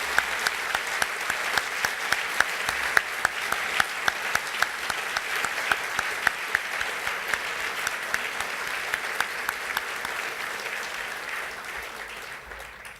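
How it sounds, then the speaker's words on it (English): Long, even applause from an audience at an awards ceremony honoring computing fellows, with many distinct claps over a continuous wash, holding steady and then slowly fading toward the end. "Please give them a round of applause."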